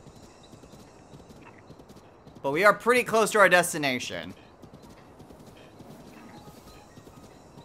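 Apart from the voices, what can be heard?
giant horse hooves clip-clopping in Zelda: Breath of the Wild video game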